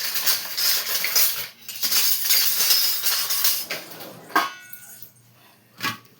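Dried red chillies drop into a little hot oil in a pan and begin frying, giving a broad sizzling hiss with a few sharp clinks of utensil against metal.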